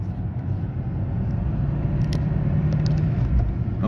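A manual-transmission car engine revs toward 3,000 RPM before a gear shift, giving a steady low rumble with a slight rising tone from inside the car and no voices.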